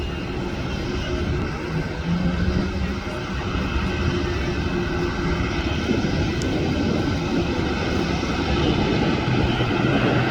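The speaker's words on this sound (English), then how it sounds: "Korean Air departing back to Seoul, Korea." A Korean Air jet airliner departing from LAX, bound for Seoul, gives a steady, loud, broad engine roar that holds for the whole stretch with no talk.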